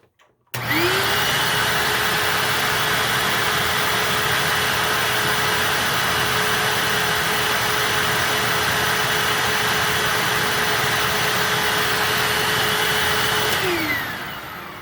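A Hoover WindTunnel self-propelled upright vacuum cleaner switches on and runs at maximum setting with the brush roll stopped, giving a loud, steady motor whine and rushing airflow that holds for about fourteen seconds before winding down.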